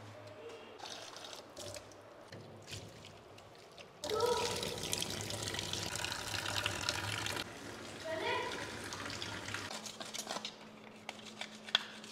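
Water running over kitchen countertop tiles as they are rinsed before cleaning chemical goes back on, a steady moderately loud splashing and gush that rises midway and lasts several seconds over a quieter background.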